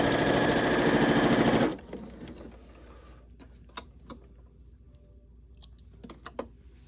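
Sewing machine running a top stitch on a fabric mask, a rapid, dense mechanical whirr for under two seconds that stops abruptly, followed by faint handling clicks and rustling of fabric.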